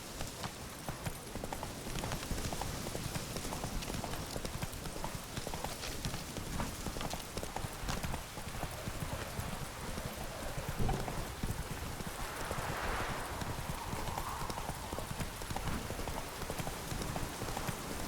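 Horse hooves galloping in The Witcher 3, a fast steady clip-clop rhythm that runs throughout alongside light rain, fairly quiet and continuous.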